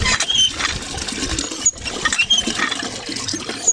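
Water gushes and splashes loudly and continuously from a Jet Matic water pump outlet, with fluctuating turbulence and a faint squeaky whine in the background.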